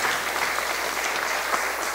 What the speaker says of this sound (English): That was an applause line for certain council members